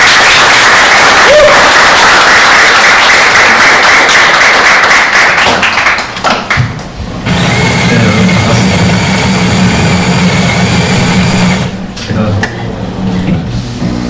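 A lecture audience at a public talk on churches in the city claps loudly and continuously to welcome a professor, a dense roar of applause that thins near the end.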